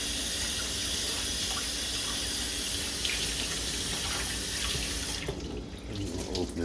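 A kitchen sink tap runs in a steady loud stream while a dishcloth is rinsed, the flow changing briefly near the end as the cloth moves under it.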